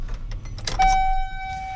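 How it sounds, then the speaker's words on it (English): A Chevy Silverado truck with a bad starter is switched off with its key, giving a brief rattle of keys followed by a steady electronic chime ringing on, close and moderately loud with no talking. "Make sure you turn your car off."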